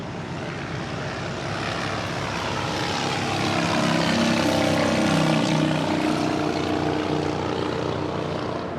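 A Spirit Airlines airliner, flight 631, passing at LAX with a broad engine roar that swells toward the middle and slowly eases, no voices over it.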